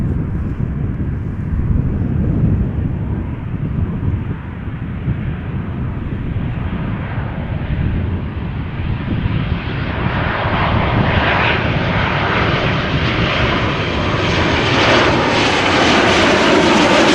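A Boeing 787 Dreamliner jet inbound from Panama City arrives at Amsterdam Schiphol, its engines a steady, loud broadband roar that builds slightly and holds across the whole stretch, with some wind rush and no talk.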